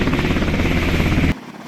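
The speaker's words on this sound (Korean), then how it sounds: "장병들이 모두 탑승하자 헬기는 힘차게 하늘로 올라 적진으로 날아갑니다" Military helicopter lifting off with fully armed troops aboard during an air assault drill, a loud, steady rotor and engine roar that cuts off abruptly near the end.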